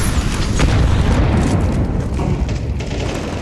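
Grenade blast in a Counter-Strike match, a loud sustained boom rumbling through the low end across the whole stretch with dense crackling game noise layered over it.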